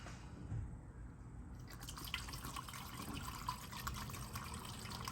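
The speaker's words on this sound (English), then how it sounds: "Let's try to pour this in" Pink coolant pours from a jug through a funnel into the reservoir of a 2016 Ram 2500 truck, a quiet steady trickling and gurgling with faint drips, close and continuous with no talk.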